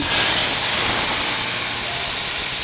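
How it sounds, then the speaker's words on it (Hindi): Steady, loud hissing sizzle of a tadka, cumin and thick red chilies frying in hot oil, continuous and close with no pauses. "ये मोटी लाल मिर्च होती है ना, इसका तड़का लगा दिया मैंने"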